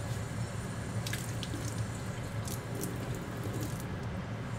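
Dirty russet potatoes rinsed under a running kitchen tap, a steady close hiss of flowing water with occasional splashy spatters as the potatoes are handled, alone without speech.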